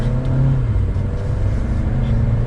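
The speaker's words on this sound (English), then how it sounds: "And so with another acceleration, we can test it out." A 2022 Audi A3 40 Premium accelerating on the road, heard from inside as a steady, loud low engine rumble with a gently rising pitch, no talk over it.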